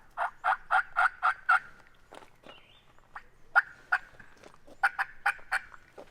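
Wild turkey gobbling or a turkey call in a Georgia swamp, a rapid series of raspy yelps in two bursts with scattered single notes between, fairly faint and distant-sounding.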